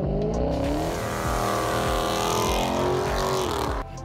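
Dodge Challenger with the 6.4-liter 392 Hemi V8 roaring loudly and close as it accelerates hard, rising pitch through the gears, with a deep rumble throughout and a brief drop at the end.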